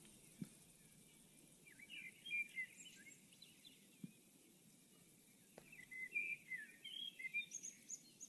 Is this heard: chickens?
no